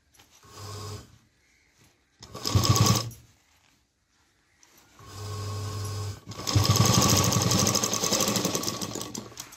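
A domestic sewing machine runs a straight seam along a fabric strip on a homemade tiffin lunch bag, in several close bursts of rapid whirring stitching separated by short pauses, the last run longest and loudest.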